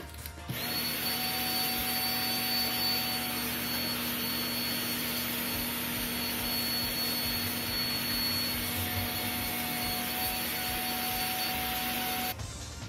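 A vacuum cleaner runs steadily while cleaning Sega Mega Drive console parts, a loud continuous whine with a constant tone that starts abruptly and cuts off near the end.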